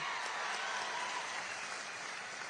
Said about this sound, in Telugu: గట్టిగా చప్పట్లు కొట్టి ఆశీర్వదించండి